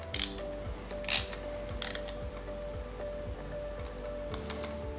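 A thread chaser is worked forwards and backwards by hand in metal threads without a vise, giving faint repeated ratcheting clicks and short scraping bursts at a steady, gentle rhythm.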